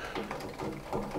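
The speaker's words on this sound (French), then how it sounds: "Et on dévisse." Fitting being unscrewed on a Saunier Duval Thema C 25 E boiler, a dense run of close ratcheting clicks and metallic turning noise, brief and fairly quiet, with no speech over it.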